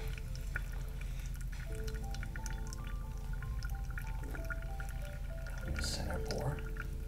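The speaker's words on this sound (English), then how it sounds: "With our first pour, concentric circles." Water poured in a steady stream over ground Ethiopian Salam coffee in a pour-over brewer, a soft continuous trickle with light dripping, close and fairly quiet, with faint background hum.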